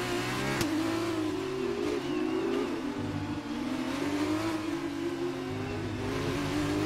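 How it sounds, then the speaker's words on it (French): A Formula 1 car engine in the racing game F1 2019 revs continuously and loudly, its pitch climbing and dipping through gear changes with a sharp click near the start, close and steady with no talk. "Oh, le bruit de cette F1"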